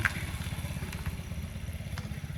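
Motorcycle engine running steadily with a low rumbling pulse while riding toward a temple entrance, close and continuous with a few light clicks over it.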